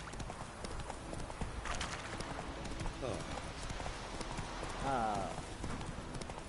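A horse's hooves clip-clop in a steady running rhythm in the video game The Witcher, heard close under a voice and other game sounds.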